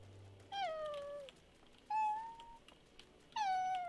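A cat meows three times in drawn-out, whining calls, each falling in pitch, spaced about a second and a half apart, close and clear over a quiet room.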